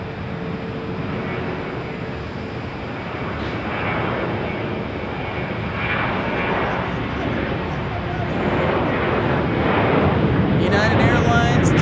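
A United Airlines jet taking off at Phoenix Sky Harbor International Airport, a loud broadband engine roar that holds steady and swells slightly toward the end, with people talking faintly underneath.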